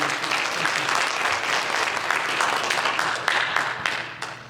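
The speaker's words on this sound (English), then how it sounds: "Let's give him a round of applause" A church congregation at a service gives a steady, dense round of applause, many hands clapping at once, loud and continuous before tapering off at the end.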